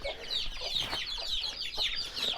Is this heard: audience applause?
no